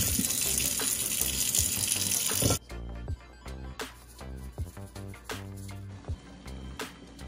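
Tap water gushes loudly while green bananas are washed in a kitchen, a steady rush for a couple of seconds that then cuts to music with rhythmic beats.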